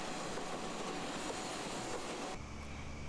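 Retired Japanese railway cars roll steadily along rails toward Nagoya Port with a continuous rumbling clatter, loud and close, the sound shifting slightly near the end.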